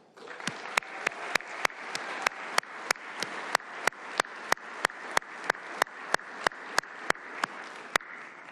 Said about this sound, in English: one by one, give them a big round of applause, please.